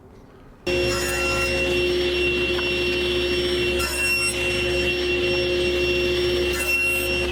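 A power saw cuts cedar boards for a potting bench, starting abruptly and running as a loud, steady whine close by for several seconds with no pause.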